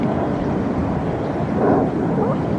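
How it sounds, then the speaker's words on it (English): Airplanes flying overhead in the sky above the World Trade Center area on September 11, a broad low roar with wind buffeting that swells slightly toward the end, steady and fairly loud. "Hear all those planes overhead."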